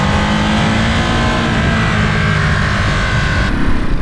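The twin-cylinder engine of a new Ducati Monster 937 motorcycle revs loud and close, a steady, throaty drone with a slight shift in tone near the end.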